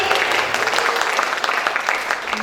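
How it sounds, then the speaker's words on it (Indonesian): Audience applause at a Yogyakarta history talk on kethoprak theatre, a dense, loud, continuous clapping from a nearby crowd lasting the whole short stretch. "Boleh tepuk tangan buat Pak Kurniadi."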